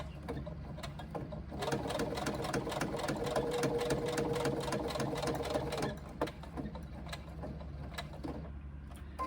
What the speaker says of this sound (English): Pivot and sew back up to the other top line.